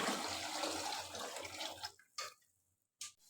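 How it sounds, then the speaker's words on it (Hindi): Five litres of water pour steadily into a large cooking pot for black chickpea pulao, a loud rushing gush that stops after about two seconds, followed by a couple of brief splashes and drips. "साथ ही मैंने इसमें डालना है 5 लीटर पानी"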